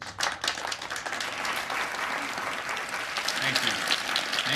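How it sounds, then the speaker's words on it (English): A standing ovation fills a hall, dense applause from a large audience sustained steadily throughout, with crowd voices mixed into the clapping. "these people are giving Jason a standing ovation for spewing complete nonsense"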